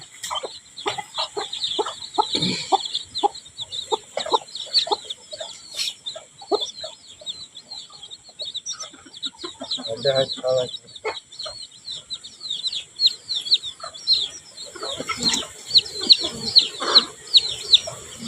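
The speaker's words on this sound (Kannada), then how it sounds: "ಕೋಳಿ ಮರಿ" Chickens and chicks cluck and cheep continuously, with many small peeps and some louder clucks close by, fairly busy throughout.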